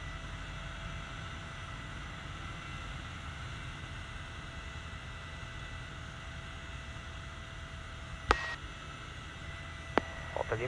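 A Piper PA-18 Super Cub light aircraft in flight on approach to Thun airfield, its engine a steady, even cabin drone throughout, with a few short clicks near the end.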